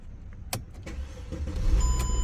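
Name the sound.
Mercedes E-Class W211 engine cranking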